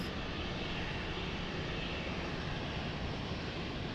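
Airliner at Lisbon Airport, a steady broadband engine roar that stays loud and even for the whole stretch with no voices.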